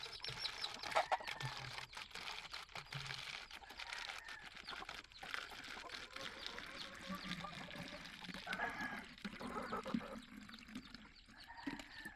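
Water is poured into chick drinking water and trickles steadily for several seconds, mixed with light handling clatter nearby.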